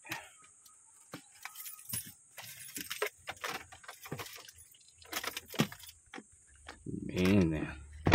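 Car keys jangle in irregular bursts of light metallic clinks, close by, while someone talks briefly, followed by a low engine rumble near the end.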